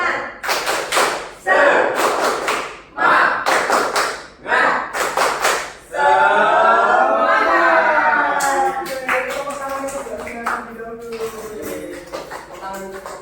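A classroom of students performs a rhythmic spirit clap together, sharp bursts of claps in patterned groups with voices chanting along, then a stretch of sustained group voices and scattered claps.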